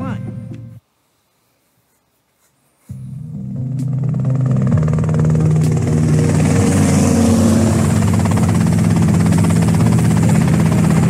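Helicopter in the video game GTA Vice City: after about two seconds of silence, a steady, loud rotor drone and engine hum start and hold without a break to the end.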